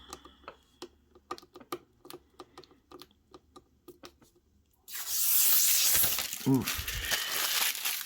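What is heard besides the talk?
peeling protective plastic film off a robotic vacuum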